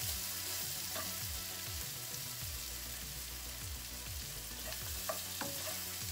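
Onions and pepper tinted with turmeric sizzle steadily in a pan, the even frying hiss broken by repeated scrapes and stirs of a utensil, close and alone with no talk.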